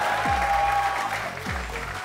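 An audience claps to welcome a comedian onto a comedy talk show stage. The applause is loud and continuous and blends with a swelling musical sting that has deep tonal swoops.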